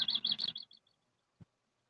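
Birds chirp in the background, a quick run of high, bright tweets in the first half-second that fades out, followed by a single soft low thump.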